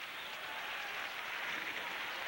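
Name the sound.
hockey fans clapping in arena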